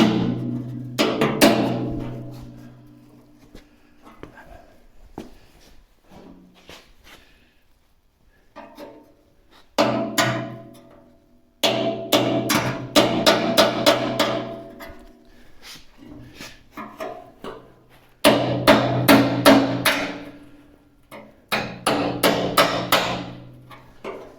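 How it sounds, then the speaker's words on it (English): A thin chisel hammered against the spot welds of a 1948 Willys pickup body panel, loud close bursts of rapid metallic blows separated by pauses. "Now we'll just pop them loose with a thin chisel."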